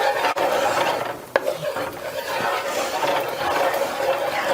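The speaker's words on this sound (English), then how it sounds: "So we're going to bring this to a boil, and we're going to let it simmer till it's reduced to half." Sauce for garlic butter chicken bites stirred in a pan as it comes to a boil, with a close, steady scraping sizzle and a couple of sharp utensil knocks against the pan.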